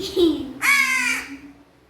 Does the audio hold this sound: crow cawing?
yes